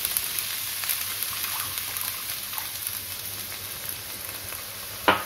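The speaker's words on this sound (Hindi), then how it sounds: "साथ ही हम इसमें डाल देते हैं थोड़ा सा पानी।" Black chickpeas sizzle faintly in a pan as water is added, with a soft steady hiss and a sharp burst of sizzling near the end, no voices.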